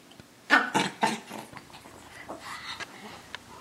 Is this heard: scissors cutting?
no